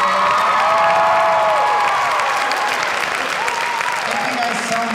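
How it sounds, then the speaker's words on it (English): An audience at a school musical production of Annie applauds loudly for the music director, sustained clapping mixed with cheers and whoops from a large crowd. "And if we could have a huge round of applause for our music director"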